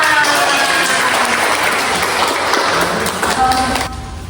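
Students in an Indonesian language and literature class applaud loudly and steadily, a dense wash of many hands clapping close by that holds for about four seconds before thinning out at the end.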